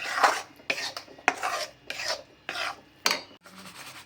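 A spoon rasps in rhythmic strokes through roasted millet flour in a pan, about seven scraping sweeps, close and alone.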